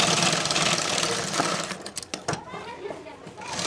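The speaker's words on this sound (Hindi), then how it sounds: "और इस तरह से हम इस अस्तर को भी सिलाई से इस तरह से लगा देंगे, सिलाई लगा देंगे" A sewing machine stitches the lining of a blouse for a fancy back-neck design, running in a steady dense whir for about two seconds before stopping, leaving short quieter bursts of stitching.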